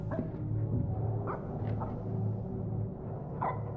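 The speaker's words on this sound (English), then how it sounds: "Am I supposed to go see what the dog's barking at?" A dog barks somewhere in the background, a few short, scattered barks rising over a steady low hum, moderately faint and not close.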